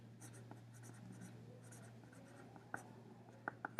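Pen strokes on paper scratch softly and close up while a calculus linear-approximation problem is worked out, with irregular short strokes and a few sharper taps over a low hum.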